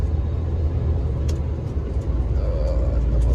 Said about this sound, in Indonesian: Mobil mau lewat guys.